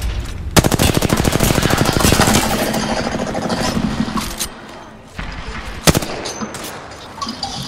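Loud, close rapid-fire automatic gunfire in a video game battle, a dense stream of shots for several seconds that fades into scattered single cracks and more distant firing.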